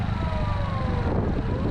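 An ambulance siren wails on a street in Yokohama, Japan, its rising and falling tone riding over a low rumble of traffic and a scooter engine nearby, fairly loud and continuous.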